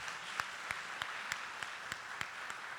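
A church congregation claps for a family, a steady, even rhythm of applause at fairly low volume with no talking over it.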